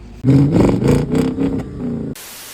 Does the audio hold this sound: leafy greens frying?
no